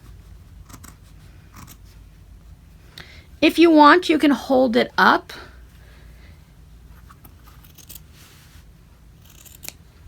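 Scissors snip through quilt fabric and batting, a quick burst of close crisp cutting strokes in the middle, set between stretches of quiet room tone with a few faint clicks and brief speech.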